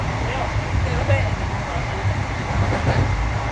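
Heard from inside a moving passenger carriage at night on a trip to Mumbai, a train gives a loud, continuous rumble with faint rhythmic clicking of the wheels, and voices murmur underneath.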